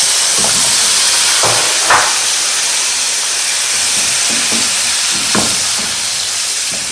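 Curry powder and chopped onion fry in oil for an assorted meat stew, producing a loud, continuous close sizzle broken by a few spoon scrapes and stirring knocks, without speech.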